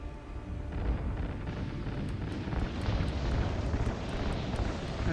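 Explosion in the video game Call of Duty Ghosts, a dense continuous roar of blasts and rumbling fire with faint ticking, steady and loud throughout with no talk.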